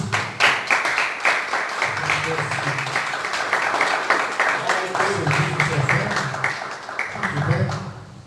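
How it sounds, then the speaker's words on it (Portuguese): Church congregation applauding together, a dense, steady patter of many hands that continues for about eight seconds, with low voices murmuring underneath. "Aplaudo o Senhor Jesus."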